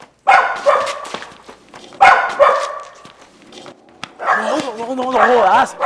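Several dogs bark and yip close by in short repeated bursts, with whimpering and howl-like calls, mixed with people talking in a comic short film scene.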